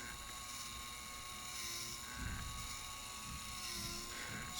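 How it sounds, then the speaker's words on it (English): Small DC motor running under potentiometer speed control, a faint, steady whine with a thin high tone and slight fluctuation in pitch, heard alone with light background hiss. "introduction to control there then of a DC motor, using a potentiometer there to slow it down"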